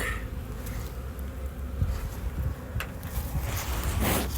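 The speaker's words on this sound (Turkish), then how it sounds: "Arılar hemen balı çekmeye başlamış." A steady buzzing of many honey bees fills the air around the hive, continuous and close, with no speech.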